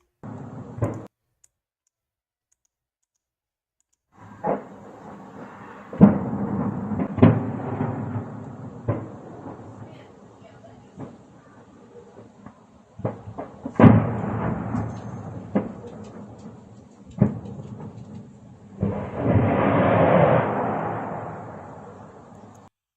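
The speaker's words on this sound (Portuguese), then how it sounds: "Dá para ouvir aqui claramente as explosões secundárias, ou seja, mostrando que foi de fato um depósito de munição que foi atingido ali" Secondary explosions at a Russian ammunition depot boom and crack at irregular intervals, some sharp single bangs and one longer rumbling blast, distant and echoing with no talking.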